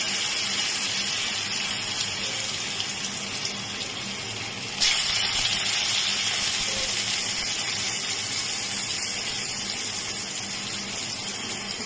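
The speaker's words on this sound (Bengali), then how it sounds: "আলু দিয়ে দেবো আলুটা ভেজে নেবো" Potatoes fry in hot oil in a wok, a dense steady crackling hiss that swells briefly as more hits the oil around the middle, then continues evenly, close and with no talk.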